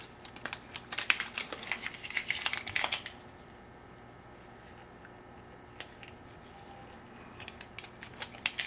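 Precision-cut graphic overlay film is peeled from its sheet, making crisp crackling and ticking bursts for about three seconds, then a quiet pause with a faint tick, then a few more sharp crackles near the end.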